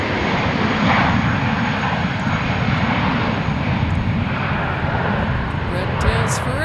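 An ex-Northwest airliner with a red NW tail rumbles at Minneapolis–St. Paul airport, a steady, loud, broadband jet roar filling the whole stretch close by, with no break.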